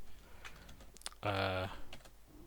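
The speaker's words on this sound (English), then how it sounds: "they could just sit like this and just hammer away at the keyboard" Fast, rough keystrokes from a computer keyboard being hammered in short bursts, heard close and fairly quiet, with a brief buzzy hum cutting in partway through.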